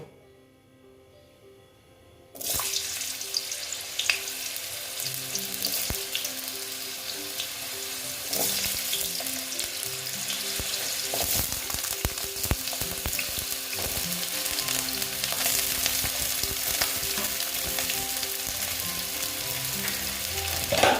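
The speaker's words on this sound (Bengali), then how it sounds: "দেখো তেলটা মোটামুটি গরম হয়ে গেছে এখন দেখো এই যে আলুগুলো আমি ভেজে নেব" Potatoes hit hot oil with a sudden loud sizzle that holds steady and close for about eighteen seconds, with occasional clinks and stirring scrapes in the pan.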